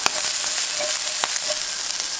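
Radishes fry in a pan with a dense, loud, continuous sizzle and crackle, close up, with faint stirring taps and no talk.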